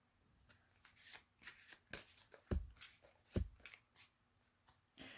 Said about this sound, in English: So let's draw some empowerment cards and see what you get.